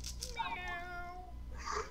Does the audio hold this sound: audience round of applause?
no